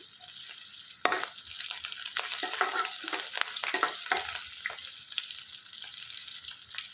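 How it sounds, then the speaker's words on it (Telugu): Crushed garlic frying in a pan for a mango and amaranth-leaf curry, giving a steady close sizzle broken by scattered crackles and stirring scrapes throughout, with no talking. "వెల్లుల్లిపాయలు చెదగొట్టి వేసుకోవాలి. మొత్తం ఒకసారి ఫ్రై చేసుకోవాలి."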